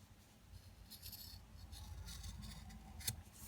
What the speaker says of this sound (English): And then cut off the toe